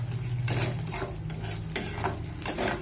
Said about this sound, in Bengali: চলো এবার ভালো করে সব কিছু দিয়ে আমি মশলাটা ভালোভাবে কষিয়ে নিই।